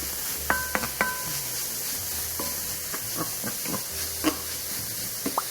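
Beef goes into a hot pan for a Korean-style egg-in-hell beef and tomato dish, giving a steady close sizzle and hiss with scattered stirring clicks and scrapes.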